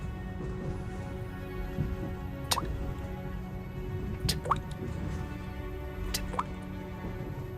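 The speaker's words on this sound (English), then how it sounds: "the dripping is coming from the blood that still drips from your hands" Soft drops of blood fall as a sound effect. Three sparse, distinct drips land a couple of seconds apart over a low, steady ambient hum.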